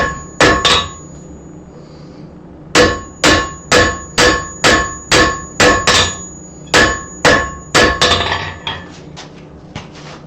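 Hammer blows ring out against hot steel on an anvil as a blacksmith draws out the metal in one heat, a quick double strike followed by a steady run of about a dozen loud, evenly spaced metallic clangs, close and alone.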